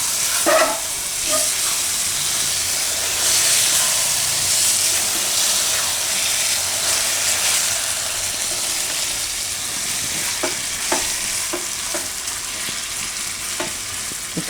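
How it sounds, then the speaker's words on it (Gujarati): Eggplant pieces tumble into a hot pan for a Gujarati green chickpea and eggplant dish, then a steady loud sizzle and hiss continues while a spoon scrapes and stirs in short clicking strokes near the end. "તો હવે આપણે એમાં રીંગણા નાખી દઈશું. બધું બરાબર મિક્સ કરી લઈશું."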